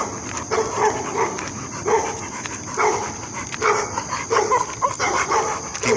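A dog barks and whines out on a walk, sharp yelps recurring every second or so over steady outdoor background noise, fairly close.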